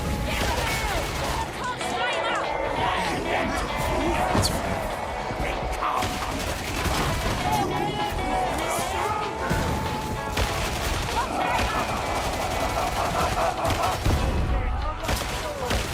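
Combat in the video game Darktide: continuous dense gunfire with rapid automatic bursts, crashes and chaotic impacts, loud and unbroken throughout, with occasional voices buried in the mix.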